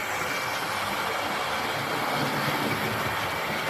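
A black Hornby LNER Hunt Class model locomotive in BR late crest livery runs around a model railway track, giving a steady, continuous rolling rumble and whir close by with no talk.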